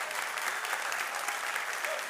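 An audience at a Chainlink keynote by Sergey Nazarov claps steadily, a dense even burst of applause filling the room without any voices over it.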